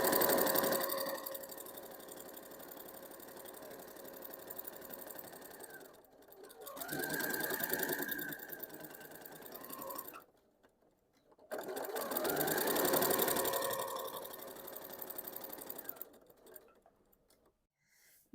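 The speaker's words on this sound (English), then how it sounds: "before I stitch my seam across the bottom" A sewing machine stitches a seam across the bottom of a small quilted mug rug, running in two steady bursts of whirring with a short pause between them, close and alone with no talking.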